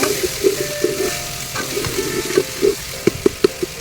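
Ginger, garlic, tomato and meat frying for a curry, a steady close sizzle broken by sharp crackles and spits that grow more frequent toward the end, with no talk.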